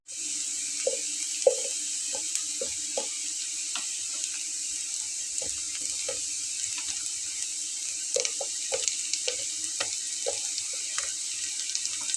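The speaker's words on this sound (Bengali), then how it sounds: "যে মূলোগুলো আমি কেটে রেখেছিলাম এই পিসগুলো আমি এখন দিয়ে নেব।" Radish pieces fry in a pan with a steady, fine sizzle throughout, punctuated by scattered soft pops and clinks from stirring or pieces being added.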